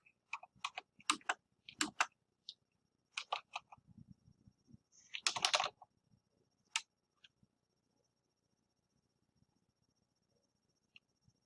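Computer keyboard typing comes in short clusters of sharp, close key clicks separated by pauses, then trails off into near silence with a few isolated taps.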